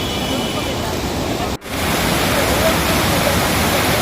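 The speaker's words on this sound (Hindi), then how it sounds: "लेकिन मैं जाने वाली हूँ झरने के पास।" Waterfall at Chitrakoot Dham in Uttar Pradesh, a steady broadband roar of falling water filling the whole clip, loud and close, with a brief dropout partway through.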